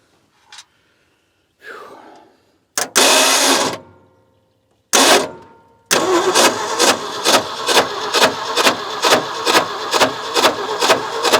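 A Ford F600 truck's starter cranks the engine in a fast, even, repeated churning rhythm after a few short mechanical bursts and pauses, loud and close.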